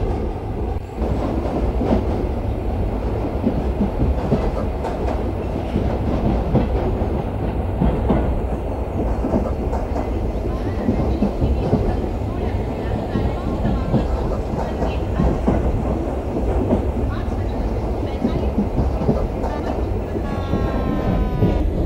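A Mumbai local train in a train simulator game rumbles steadily with rhythmic wheel clatter as it brakes, with a faint high squeal near the end.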